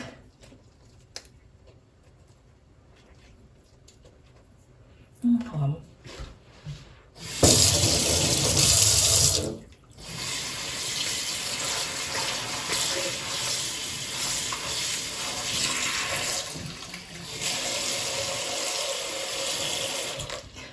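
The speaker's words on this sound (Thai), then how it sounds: "แต่จังบ่ชินกับไอ้กอกน้ำจ้า เปิดแต่พอนใส่" A kitchen faucet is turned on after some quiet handling noises. Water gushes loudly into the sink, dips briefly, then keeps running steadily to the end.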